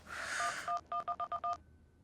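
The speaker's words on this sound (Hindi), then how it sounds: "फोन करके देखती हूँ।" A phone number being dialed: a run of about seven short keypad tones in quick, even succession, clear and close, then quiet.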